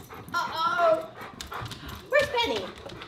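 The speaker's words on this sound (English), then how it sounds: "Let's go get the doggy." A pet dog whimpers and pants indoors in a house, with a couple of high whines, soft pattering movement and a person talking over it.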